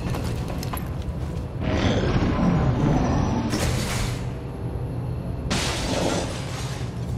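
Glass shatters during an XCOM 2 tactical game, a loud broadband crash and spray of fragments that recurs in bursts over steady low game ambience, with no talk.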